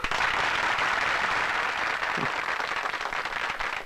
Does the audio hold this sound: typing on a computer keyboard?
no